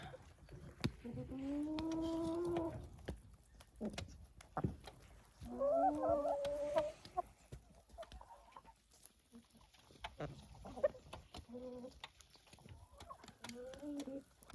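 Hens on a country dacha plot cluck and call in several drawn-out, moderately near bursts with shorter clucks between, in a quiet outdoor setting with no talking.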